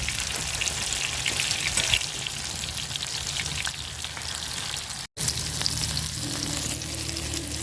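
Small shrimp fritters fry in hot oil with a steady, dense sizzle and crackle throughout, dipping briefly to near silence for a moment before the bubbling resumes; no one speaks.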